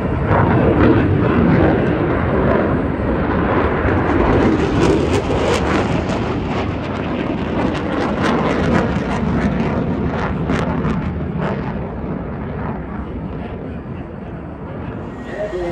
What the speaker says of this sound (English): the E7 wedge tail, which dominates the airspace of the EWC platform from number 2 squadron